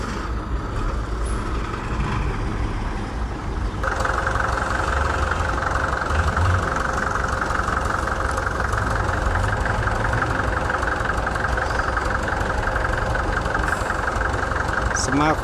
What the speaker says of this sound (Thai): ดั้มหกล้อ ตัวนี้เป็นหกล้อรุ่นกลาง